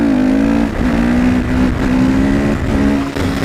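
Honda CRF 450 supermoto motorcycle accelerating in fourth gear, its engine note rising loud and close in steady pulls, briefly dipping between surges.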